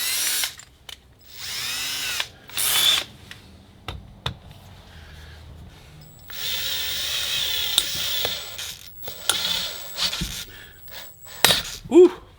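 A power drill bores into a seized exhaust stud in a cylinder head, sounding in several loud, high-pitched bursts broken by pauses, with clanks and ratcheting clicks between runs.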